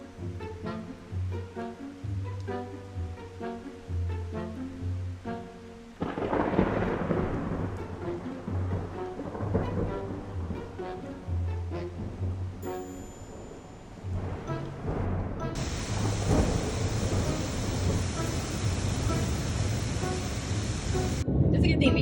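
Night thunderstorm in the Badlands of South Dakota: broad, steady rushing rain and deep rumbling that swell louder in the second half, with music running through parts of it.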